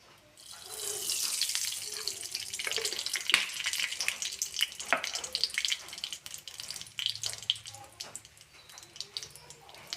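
Mustard seeds hitting hot coconut oil in a pan, a steady bright sizzle and crackle that starts abruptly and continues with scattered pops, fairly close and moderately loud, fading somewhat toward the end.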